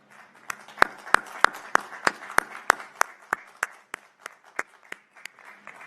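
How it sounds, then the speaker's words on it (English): A university commencement audience claps for graduating honors students, a steady, evenly spaced run of sharp hand claps, fairly loud and close, with a faint crowd bed beneath and no talk over it. "Your family, friends, and fellow students join me in applauding your success."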